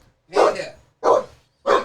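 A dog barks three times close by, each bark loud and full, separated by short pauses in a quiet room.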